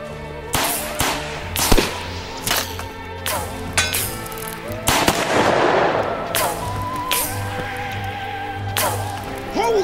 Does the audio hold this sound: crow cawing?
no